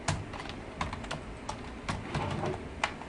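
Soft, close keystrokes tap out on a computer keyboard in an irregular rhythm of about a dozen clicks, some bunched together, with a faint quiet room tone between them.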